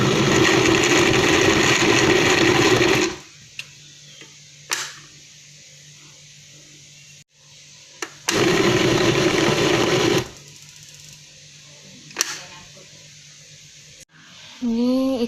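Loud electric blender grinding chopped toman fish for Kapuas Hulu wet crackers, two long whirring bursts with a short spin-up in between, separated by quieter pauses and small clicks.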